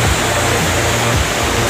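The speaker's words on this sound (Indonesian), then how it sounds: "sebuah tempat rekreasi, namanya air terjun Ceracai" Ceracai waterfall, a mountain recreation spot in South Aceh, pours in a dense, steady roar of falling water, loud and close, a constant hiss with no pauses and no voices.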